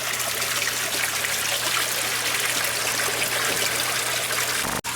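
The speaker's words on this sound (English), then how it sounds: "this device powers the water pump beautifully for running samples through here" Water pumped through a sluice box in a greenhouse flows and trickles steadily, a continuous close splashing rush with a low pump hum underneath, then briefly cuts off near the end.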